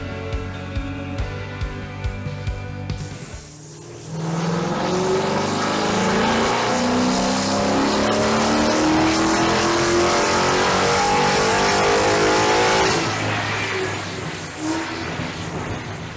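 A 2013 Mustang GT engine on a dyno idles with a rough, lumpy rhythm, then drops out before roaring up into a long, loud rising rev, sustained and easing back near the end.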